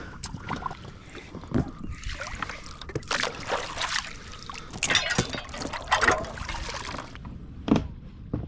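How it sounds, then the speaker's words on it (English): Water is scooped and poured repeatedly from a leaking boat's hull while out fishing and diving at Jackson Bay, with splashing, trickling and clunking strokes in an irregular rhythm, close up and fairly loud. "Just go empty the boat."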